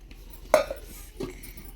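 Jugs from a new Bajaj mixer grinder set being handled in a kitchen, giving one sharp clink followed by a softer knock a moment later, close by with no talk.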